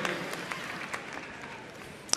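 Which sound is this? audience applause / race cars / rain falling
audience applause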